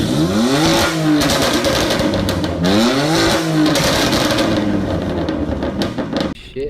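Racing engine of a Porsche 911 GT3 RS in the Assetto Corsa racing game, revving up through repeated rising sweeps and holding high at the rev limiter, loud and continuous with no voices.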